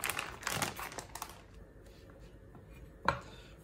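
Knife chopping pancetta-type fatty pork into small pieces for carbonara: quick faint taps on a cutting board early on, a pause with low background, then one sharper knock, close and quiet with no talk.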